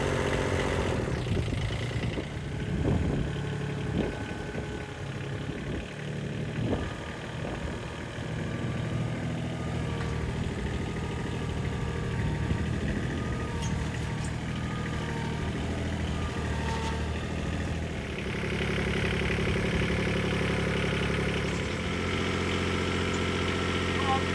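A large digger's engine runs at a steady idle, its low, continuous rumble close by and lasting throughout, while voices talk over it.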